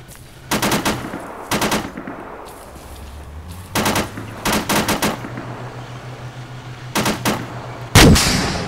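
Bursts of automatic gunfire in the video game Arma 3, sharp repeated volleys arriving in clusters with gaps between them, one very loud close burst near the end, over a low engine-like hum.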